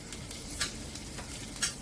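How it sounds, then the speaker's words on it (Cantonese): Garlic and ginger slices fry in hot oil in a wok over high heat, a close steady sizzle with a few sharp scraping stirs of a spatula. "放啲蒜片同埋薑片落去，"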